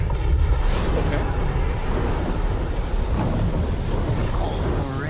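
Video game thunderstorm, with heavy rumbling thunder and continuous rain washing over everything, loud and close, with a voice talking over it at times.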